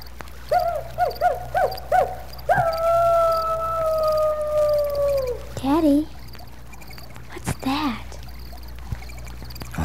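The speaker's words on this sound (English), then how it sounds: "that's only a coyote" A wild coyote howls outdoors at night in a long, rising and wavering call with short yips before it, heard near and clear above a steady background of frogs and insects, with a brief voice and other night animal calls following.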